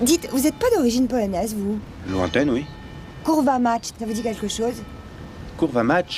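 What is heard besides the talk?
None of the usual background noises is heard.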